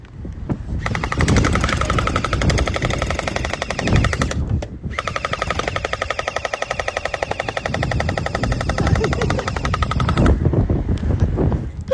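Splat gel blaster guns fire in long, rapid automatic bursts with a brief pause between them, loud and close throughout.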